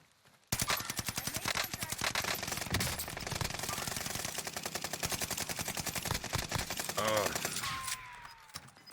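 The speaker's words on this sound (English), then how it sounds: "I hear gunshots to the south." Rapid bursts of automatic gunfire crack through a Call of Duty Warzone match. The dense shots repeat continuously, loud and close, with some faint voices underneath.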